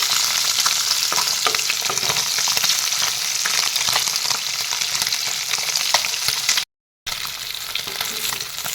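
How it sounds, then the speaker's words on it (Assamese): Kawai fish (climbing perch) frying in hot oil, giving a steady, loud, dense sizzle with scattered crackles and stirring scrapes throughout, broken by a brief silent gap near the end. "এইখিনি মই তেনেকৈ ফ্ৰাই কৰিছোঁ।"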